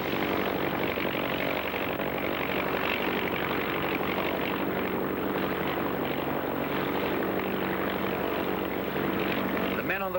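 Propeller airplanes flying in formation at the National Air Races, a continuous loud droning engine roar that stays steady throughout, with a narrator talking over it.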